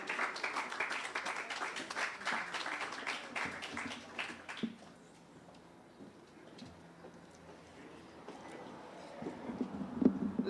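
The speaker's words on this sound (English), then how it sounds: "by your show of applause, Dame Billy Miller." Audience applause at a ceremony renaming the Glebe Polyclinic in St. George: a dense burst of clapping for the first few seconds, then fading to a quieter murmur of room noise and a few scattered claps.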